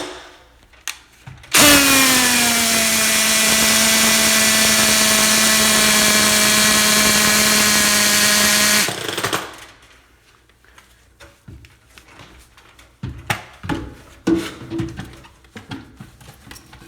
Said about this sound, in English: Use the drill to spin the wheel.